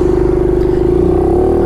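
Honda Biz 125 motorcycle engine running without an air filter, close and loud, a steady throbbing idle with a pulsing beat that rises slightly in pitch toward the end, with no voices.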